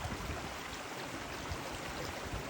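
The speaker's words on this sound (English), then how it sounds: "Here's a little creek that's kind of popped out here with the babbling water there" Water babbles steadily along a small creek on a rainy track at Dove Lake, Cradle Mountain, Tasmania, a constant broad rushing wash up close with no talking.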